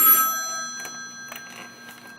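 Telephone ringing in a shelter office, bright electronic rings repeating several times at moderate level over a quiet room with faint background noise.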